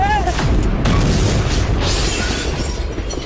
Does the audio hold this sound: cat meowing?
no